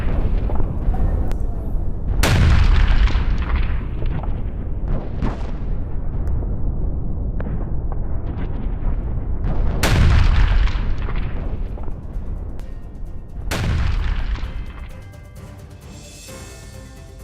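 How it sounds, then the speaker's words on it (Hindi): Three heavy explosions boom out over a constant low rumble, each a sharp loud blast that decays slowly, the last followed by fading crackle. "जोरदार विस्फोट हुआ है इस हमले के बाद।"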